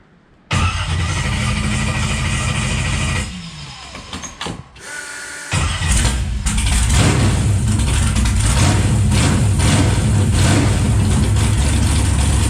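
A race car engine cranked by the starter, a loud steady whirring spin that drops away and stutters, then catches and runs as a loud rough idle close by.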